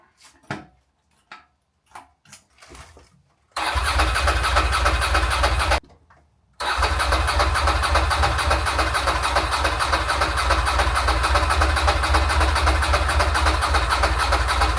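Ducati motorcycle engine cranking and starting after a few sputtering attempts, catching briefly, cutting out, then restarting into a loud, steady close-up idle.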